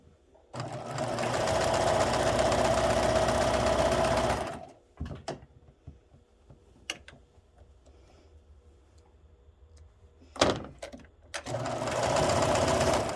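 A sewing machine stitches a binding seam in two loud, close runs of steady whirring, separated by a quiet stretch with scattered clicks and handling noises.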